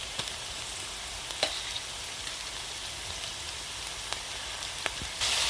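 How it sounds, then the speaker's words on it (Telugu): Raw pounded garlic and onion paste sizzling in a pan with already fried onions, a steady close crackle with a few sharp pops, no talk. "ఇప్పుడు కచ్చా పచ్చగా దంచి పెట్టుకున్న తెల్లగడ్డ ఎర్రగడ్డ పేస్ట్ వేసుకున్నాం."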